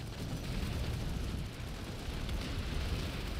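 A rocket rifle in Planetside 2 on PS5, a dense continuous rumbling roar of blasts that stays loud and unbroken for a few seconds, with no voices over it.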